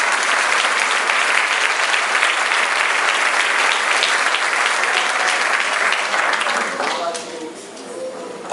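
A church congregation claps in dense, sustained applause, loud and close. Toward the end it thins and voices come through beneath it.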